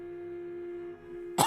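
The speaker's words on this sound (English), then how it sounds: "This is going to be one coughing episode." A single abrupt cough bursts out at the very end, loud and close, after a quiet stretch of steady electronic hum.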